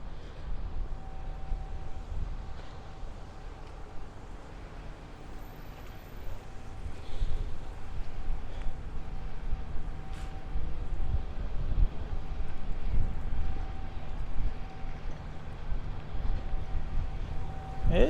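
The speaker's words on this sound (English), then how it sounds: "It's pretty breezy today, to be honest with you." Breezy outdoor wind on a Brooklyn street, a steady low rumble of gusts buffeting the microphone over faint city hum, swelling slightly midway and continuing throughout.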